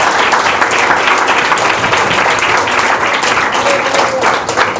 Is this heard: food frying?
no